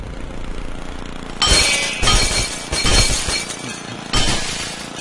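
Glass shattering in the video game Happy Wheels, four loud crashing breaks at irregular intervals, each a bright burst of splintering shards over a low game background hum.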